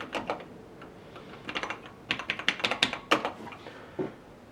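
Bursts of brisk typing on an Alps keyboard, clicky keys pressed in quick irregular runs with short pauses between, close and fairly quiet.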